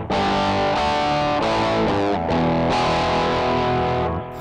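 Distorted electric guitar chords ring out through a Flamma FX50 portable multi-effects headphone amp's gritty overdriven setting, several strummed changes sustaining steadily with a touch of echo, loud and alone.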